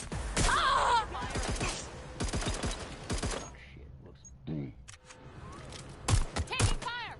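Bursts of gunfire ring out in Watch Dogs: Legion, loud clustered shots mixed with shouting game voices and grunts, easing to a quieter stretch before another flurry.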